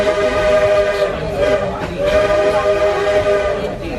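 Steam train whistle at the Magic Kingdom, a sustained tonal blast with steady harmonic pitch running loud and close for about four seconds, with train rumble beneath.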